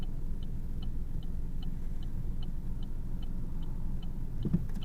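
A car's left turn indicator ticks in a steady, even rhythm inside the cabin, heard over the constant low rumble of the engine and road while driving toward Eston.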